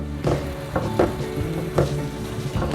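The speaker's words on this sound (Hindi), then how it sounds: "अच्छी तरह इनकी टमाटरों के साथ भुनाई करेंगे" Steady sizzling of masala frying with tomatoes in a pan for fish curry, with a few louder bursts as it is stirred, close and continuous throughout.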